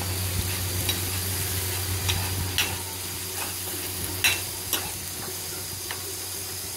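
Spice paste is stirred into meat sizzling in a hot pan with whole garam masala (cardamom, cloves, cinnamon), giving a steady close frying hiss broken by occasional scraping and knocking of the spoon against the pan.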